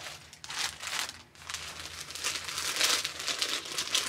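Crinkling of a big plastic Ziploc bag handled during an unboxing, close and fairly steady, with crisp rustles swelling after a brief lull and no talking.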